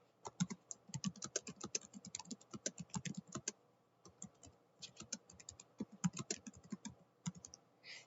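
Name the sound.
typing on a computer keyboard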